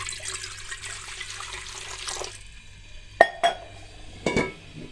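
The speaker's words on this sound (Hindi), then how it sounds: "तकरीबन 1 गिलास पानी शामिल कर देंगे।" About one glass of water is poured into a pressure cooker sitting on a stovetop while cooking a lentil and pumpkin dish: a steady splashing gush for about two seconds, then a few sharp metallic clinks and knocks.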